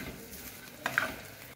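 Onion and dry coconut sautéing in a pan, a soft steady sizzle with light scraping stir strokes, close and fairly quiet for under two seconds.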